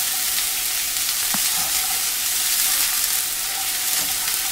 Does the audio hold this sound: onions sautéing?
yes